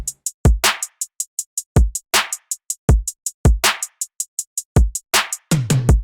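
Electronic drum pattern of punchy kick drums and three layered snares over a steady ticking hi-hat, looping in a tight, loud, dry groove with no voices.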